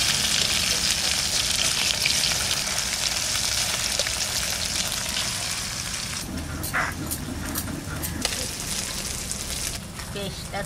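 Small puti fish fry in a pan of hot oil, a loud, continuous sizzle that eases slightly, then breaks into sharper spitting crackles toward the end.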